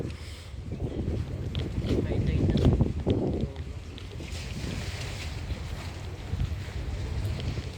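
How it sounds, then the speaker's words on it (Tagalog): Gusty wind buffets the microphone in low rumbling surges, strongest early on, on a fishing pier in Pasadena, while people talk intermittently underneath. "Masarap yung hangin niya."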